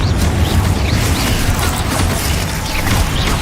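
Confringo fire spells blasting in the Hogwarts Legacy video game, a dense, loud run of overlapping booming bursts and crackles with no pause, set against continuous combat noise.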